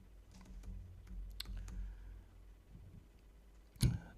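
Several scattered keystrokes on a computer keyboard as a Linux kernel module command is entered, faint and sparse, ending in one louder key strike.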